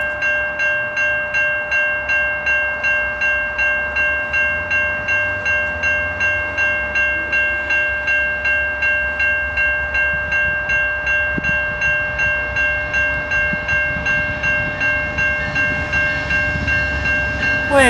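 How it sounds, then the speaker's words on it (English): An Amtrak passenger train rolls steadily past up close, a loud sustained horn-like tone over rhythmic rail clatter that continues throughout. "Is that an Amtrak train?"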